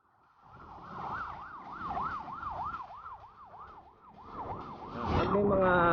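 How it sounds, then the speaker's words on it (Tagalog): An ambulance siren wails in a steady, repeating up-and-down cycle on Governor's Drive in Carmona, Cavite, loud and close, with heavier road noise and a second tone rising near the end. "Pag may mga ambulansya, mawangwang, paunahin nyo na yan."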